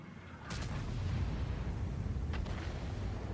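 Tank cannon firing in World of Tanks: two heavy booming shots about two seconds apart, each a sharp crack that rolls into a deep, sustained low rumble of engine and battle noise.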